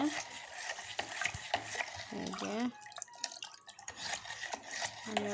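A spoon stirs sugarcane jaggery lemon sherbet in a glass or jug, giving soft repeated clinks and swirling liquid sounds, close and fairly quiet, with a voice speaking over part of it.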